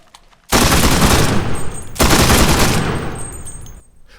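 Loud, close automatic weapon fire in the WWII shooter Enlisted, two sustained bursts of rapid shots separated by a brief break, with no talking.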